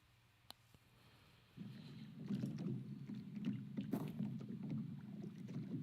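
Boat engine sounds in a first-person shooter game under development in Unity, a low steady drone that starts abruptly and holds, with small clicks and scattered ticks over it.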